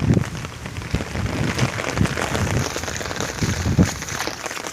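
Steady rain pours down and patters on surfaces outdoors in a heavy monsoon downpour, a dense continuous hiss with scattered louder drops, close and loud throughout, with no voices.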